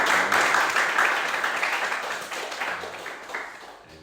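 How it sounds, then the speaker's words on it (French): A church congregation claps to welcome first-time visitors, with dense, sustained applause from many hands that is loud at first and slowly fades over several seconds. "On peut applaudir pour les accueillir."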